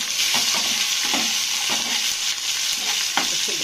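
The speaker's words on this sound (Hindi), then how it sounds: "अब इसमें प्याज डाल देंगे और मसाले पेस्ट डाल देंगे।" Onion and masala paste sizzle in hot oil in a pan for a home-style curry, a steady close frying hiss broken by soft repeated scrapes of stirring.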